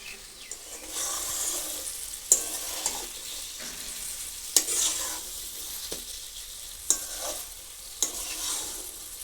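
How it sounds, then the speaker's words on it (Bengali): Eggplant and onion stalks frying in a pan with raw mustard oil, a steady close sizzle broken by regular scraping strokes of a spatula stirring every second or two. "অল্প একটু কাঁচা সর্ষে তেল দিয়ে দিচ্ছি"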